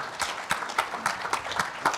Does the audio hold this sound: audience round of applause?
yes